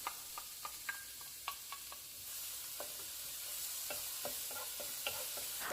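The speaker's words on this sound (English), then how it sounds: "I'm going to start by sauteing a half cup of chopped onion" Chopped onion, half a cup, sautéing in two tablespoons of preheated oil in a pot, with a steady sizzle and scattered sharp clicks of stirring against the pot, fairly close and without talk.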